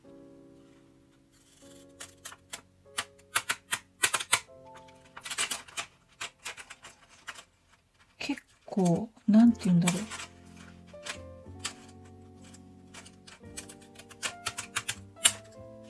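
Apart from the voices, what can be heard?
zigzag scissors cutting chiyogami paper memo book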